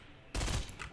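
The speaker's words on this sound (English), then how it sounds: "The shot went right over his head." A single sharp gunshot burst in the video game Fortnite, sudden and fairly loud, then a short decaying tail, alone without talk.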